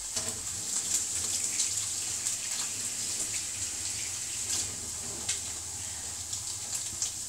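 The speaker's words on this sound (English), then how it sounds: "I'm just going to wash my hands" A kitchen tap runs steadily while hands are washed beneath it, giving a continuous close splashing hiss of water with small irregular spatters and no talking.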